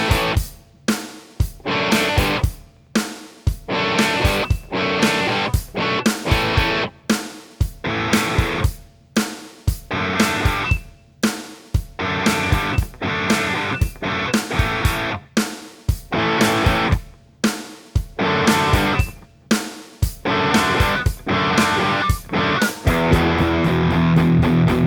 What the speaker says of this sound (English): I just rolled down the volume on my guitar. It's an old school way of controlling distortion without needing a foot switch.